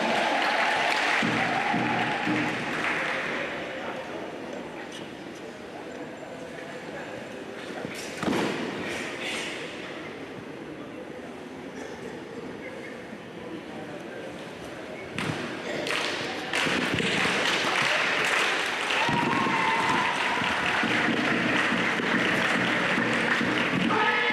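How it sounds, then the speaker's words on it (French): An audience applauds martial arts performers demonstrating the kankusho kata. Loud clapping opens the stretch, drops to a quieter murmur with scattered thuds and footsteps, then swells back into full applause for the last third, with some voices mixed in. "Applaudissez-les seulement"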